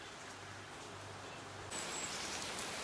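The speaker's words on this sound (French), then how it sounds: "On peut même pas sortir parce qu'il pleut" Rain falls outside as a soft, steady hiss that suddenly grows louder and fuller partway through, continuing without any voices.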